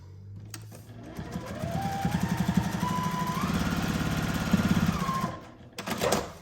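A sewing machine stitching a fabric seam with a fast, steady rhythmic chatter and a rising motor whine, running for several seconds before slowing to a stop.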